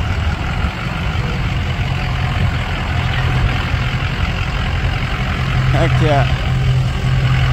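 A big V8 diesel truck with a hole cut in its hood idles at a county fairgrounds garage, a deep, steady rumble up close with a short spoken exclamation near the end.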